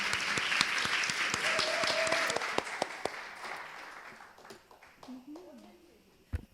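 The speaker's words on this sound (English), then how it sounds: "How about another round of applause for our moderator, our panelists, for this amazing discussion." An audience at a women's leadership conference panel applauds, with dense clapping that gradually thins and fades. A voice speaks briefly as it dies down.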